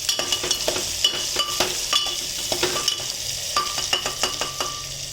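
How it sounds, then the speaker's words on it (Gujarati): Stuffed brinjals are stirred in a pan, a spoon scraping and clinking against the metal in quick irregular strokes over a light sizzle of frying, close and alone. "અને પછી એમાં જ આપણે કે હલાવી નાખવાનું"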